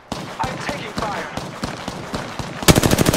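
Rapid bursts of Havoc rifle fire from the Apex Legends video game, repeated sharp shots in quick succession that build into a dense, louder stream at the end.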